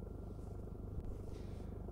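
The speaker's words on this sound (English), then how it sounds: "the helicopter is so loud that it makes it almost impossible to ask how the patient's feeling" Inside a helicopter cabin on a medical flight, a low, dense rumble drones without pause, pulsing rapidly and evenly from the rotors, with a faint tick near the middle. It is steady and muffled, with no voices.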